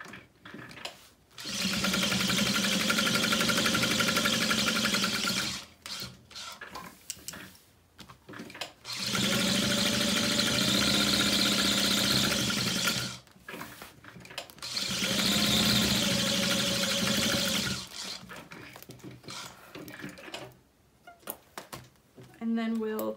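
A sewing machine basting fabric for a foldover clutch runs in three sustained whirring bursts separated by short pauses, close and fairly loud, with soft handling noises between runs.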